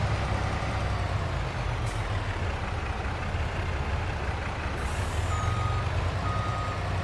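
Truck reversing beeps from Farming Simulator 22 repeat as a steady electronic tone over a constant low engine rumble, with a faint hiss of air brakes at moments.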